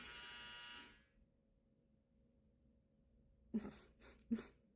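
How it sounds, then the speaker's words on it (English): A clothes dryer's steady electronic alarm buzz sounds for about a second and then cuts off, leaving quiet room tone broken later by a few short, sharp knocks. "That was the alarm on my dryer."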